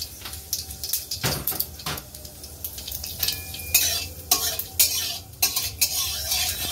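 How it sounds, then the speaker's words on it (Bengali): Mangoes are stirred in hot oil with mustard seed for a homemade mango pickle, a spoon scraping and clattering against the pot in irregular bursts over a soft sizzle, close and fairly loud. "আমগুলো ভালো করে তেলে নাড়াচাড়া করে নেব।"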